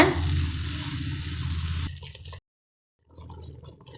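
Carrot halwa with sugar added is stirred in a pan, giving a steady bubbling, wet sizzle that stops abruptly, goes silent briefly, then resumes more faintly, close up.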